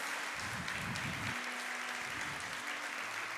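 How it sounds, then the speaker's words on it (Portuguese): Church congregation applauding during a Brazilian worship service, a dense continuous wash of many hands clapping at moderate level, with a low organ-like tone sustained underneath. "Pode aplaudir o Senhor, querido, pode dar a Ele seu louvor"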